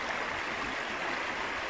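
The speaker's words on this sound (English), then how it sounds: "Water running through there." Water running through a small countryside stream, a soft, steady rushing and burbling that stays even and fairly faint throughout the short stretch.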